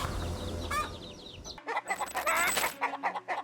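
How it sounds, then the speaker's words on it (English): Several chickens cluck and squawk in quick, agitated bursts as a predator threatens them, close by, with a rougher background that cuts out partway through. "The chickens scatter in terror as the predator intimidates them."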